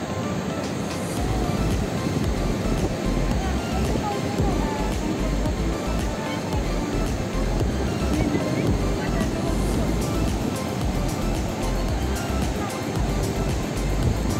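Rushing water released from a dam at Necklace Point in Bhor, a continuous loud broadband roar that stays steady throughout, with people talking over it.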